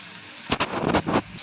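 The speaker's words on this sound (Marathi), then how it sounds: "तर ह्याच्यामध्ये मी थोडं पाणी घालून घेते." Water pours into a pan of soybean masala curry (soybean rassa bhaji), a short splashing gush lasting under a second, up close and fairly loud.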